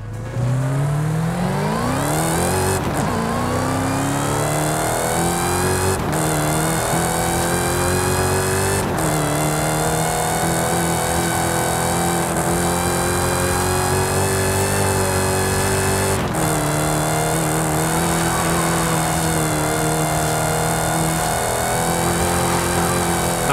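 A Dodge Hellcat Widebody engine in the Forza Horizon video game, tuned to over 1500 HP, revs and roars steadily, pitch climbing and dropping with several sharp gear shifts, loud and continuous throughout.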